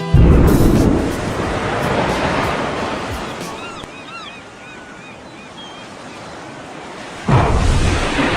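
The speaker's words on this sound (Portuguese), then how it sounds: "Uma bomba atômica explodindo na água." An atomic bomb exploding in water: a sustained, heavy roaring rumble like surging surf, with a sharp renewed blast near the end, loud and without voices.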